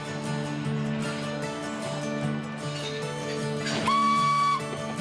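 A steam whistle sounds a short, clear high tone over the steady rumble and hiss of an idling tourist steam locomotive at Noyelles, on the Bay of Somme.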